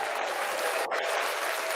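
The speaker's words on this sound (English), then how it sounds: "Hey, Taja, can you hear the claps?" An audience clapping at the opening of a podcast, dense steady applause from many hands at moderate level, sustained without a break and with no talk over it.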